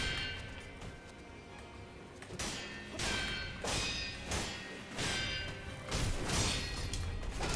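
A boss's thrust attack in Sekiro: Shadows Die Twice lands as a run of heavy thuds and swishing blade strikes, each impact sharp and close, with brief metallic crashes between them and no talk.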